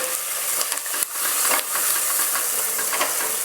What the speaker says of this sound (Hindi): So now we'll cook the masala